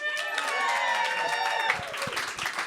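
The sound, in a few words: audience cheering and applause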